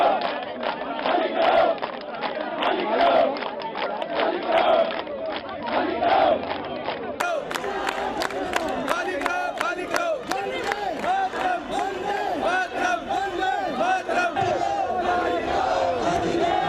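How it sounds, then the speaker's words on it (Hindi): A large crowd at the Singhu border, many holding tricolour flags with heavy police presence nearby, chants slogans demanding the border be vacated: loud, rhythmic, repeated shouts filling the space continuously. "सिंघू बॉर्डर खाली करो की नारेबाजी हो रही थी"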